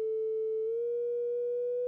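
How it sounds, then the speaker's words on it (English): A pure synthesizer sine-wave tone under slow FM modulation from an LFO, steady and clean, its pitch sliding gently upward partway through and then holding, with no other sound. "Immediately, we can hear the pitch change, and we can see the sine wave changing in length on the screen."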